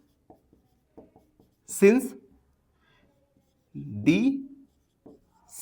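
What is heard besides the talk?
pen writing on paper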